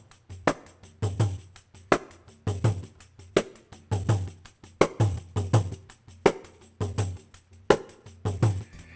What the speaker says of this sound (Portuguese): é o som do pandeiro como nós captamos.